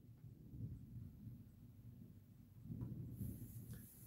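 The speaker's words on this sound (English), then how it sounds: "Is that thunder?" Distant thunder rumbles low and steady for several seconds, faint and alone, swelling slightly toward the end.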